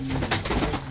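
Pigeons coo softly in a brief burst of low, throaty calls. They sound close and carry on over a faint steady background.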